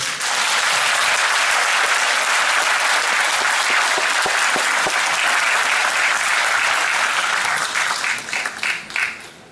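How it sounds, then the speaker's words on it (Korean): An audience at a book concert applauds to cheer on Team Korea, dense and sustained clapping that fills the room steadily, then thins into scattered individual claps near the end. "팀 코리아를 위해서 격려의 박수를"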